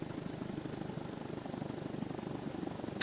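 An aircraft engine in the video game Stormworks drones steadily with a dense, rotor-like rumble, loud and continuous for three seconds without any talk.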